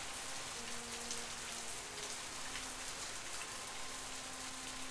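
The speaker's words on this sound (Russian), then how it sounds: "Что-то тут как-то дождливо, ребят." Steady rain falls in the video game The Path, a dense and even hiss of drops hitting a surface that stays constant throughout with no voices.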